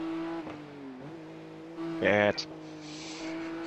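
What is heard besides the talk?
race car in the pit lane, from a racing video game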